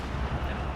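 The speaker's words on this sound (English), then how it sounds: "Army cannons." Army cannon artillery fire in Company of Heroes 2 during a 4v4 tournament match, a loud, dense booming burst filling the short moment with rumbling low-end weight.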